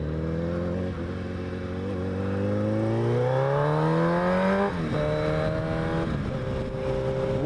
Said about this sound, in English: Oh, worst clutch let out ever.